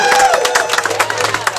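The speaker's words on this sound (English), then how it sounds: "let's give that a round of applause" Crowd at a release party applauding and cheering, a dense burst of clapping with a whoop early on, fairly close and steady for the short span.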